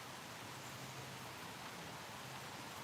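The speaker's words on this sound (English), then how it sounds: "It's raining again." Steady, dense rain falling throughout, a continuous even hiss with no talk over it.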